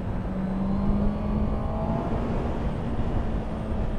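Honda CB650R motorcycle engine pulling steadily under acceleration while riding, a continuous loud droning hum with rising tone and wind rush, no talk.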